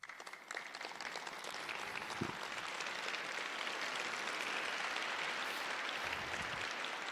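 Seated audience at a company talk gives a long round of applause, a broad hiss of many clapping hands that swells after the first second and holds steady, fairly soft and distant.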